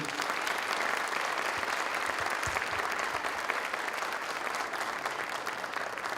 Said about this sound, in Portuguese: pedindo primeiro uma salva de palmas a todos aqui